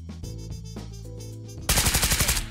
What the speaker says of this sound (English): Someone's shooting in the front.